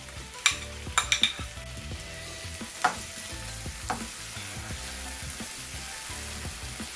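Chopped tomatoes frying in a pan with sautéed garlic and ginger for paneer pirattal; a soft, steady sizzle runs throughout, punctuated by a few sharp spoon or spatula knocks early on, no voices.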